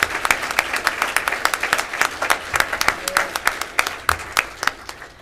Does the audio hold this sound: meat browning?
no